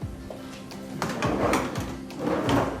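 Hotel room dresser drawers slide open and shut in several quick wooden scrapes and knocks, close by and moderately loud, with no talking.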